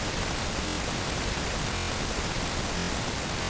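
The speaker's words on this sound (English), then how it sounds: "it will actually sound like white noise," Dense broadband hiss from scanning a wavetable in the Vital software synthesizer, a constant loud noise wash with faint periodic swells, no voices.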